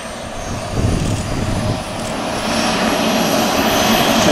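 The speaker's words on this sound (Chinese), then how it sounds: "现在做辅助动力启动" An air force jet of the 443rd Tactical Fighter Wing starts up on its auxiliary power unit, giving a loud, steady engine roar and whine that swells slightly and holds close throughout.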